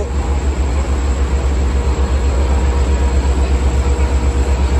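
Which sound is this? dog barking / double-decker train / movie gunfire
double-decker train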